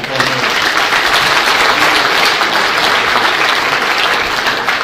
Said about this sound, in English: We'll just give them a round of applause.